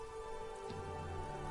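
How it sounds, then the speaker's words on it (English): Steady rain falls outdoors on a day that had been clear, a continuous wash of drops at even loudness with no voices present. "It's raining again."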